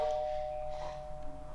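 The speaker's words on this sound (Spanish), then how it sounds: "Acaban de llamar al timbre." A doorbell rings indoors with a single sustained electronic chime tone, fairly faint, fading slightly over a moment of quiet room noise.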